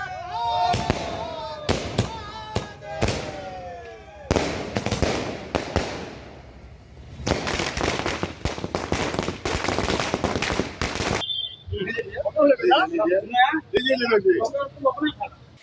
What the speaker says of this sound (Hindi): सवर्ण समाज के लोगों ने पटाखे फोड़कर खुशी का इजहार किया